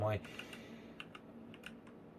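Typing on a small keyboard with compact keys, a quiet run of irregular light clicks after a brief louder burst at the start, close but faint.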